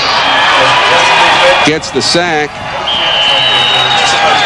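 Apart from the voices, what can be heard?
home crowd cheering for the football defense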